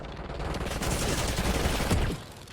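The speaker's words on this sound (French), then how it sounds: "Tire pas n'importe où, bordel." Dense, continuous automatic gunfire from the video game Warzone, loud and sustained as rapid overlapping shots for about two seconds before easing off abruptly near the end.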